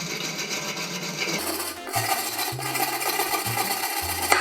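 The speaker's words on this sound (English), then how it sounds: "I have a wire brush that I use, but you can clean the pan surface up, get all the excess silicone off of it" A wire brush scrubs old silicone off the sealing surface of an oil pan on an MK6 2.0 TSI GTI or Jetta engine, giving close, uneven raspy scraping strokes that grow denser partway through, with no voices.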